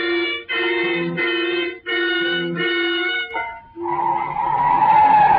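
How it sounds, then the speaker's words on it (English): Car tires squeal in a radio-drama sound effect, a series of loud, pitched screeches in short bursts followed by a rougher skidding rush as the car swings into a driveway; no voices. "Then you hear the squeal of tires as Amy swings into the driveway"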